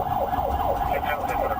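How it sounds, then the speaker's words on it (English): Sirens on marked Florida Highway Patrol vehicles wail in a steady, rapid rising-and-falling cycle, loud and continuous, with road noise underneath. "nearly colliding with two marked FHP vehicles with lights and sirens activated"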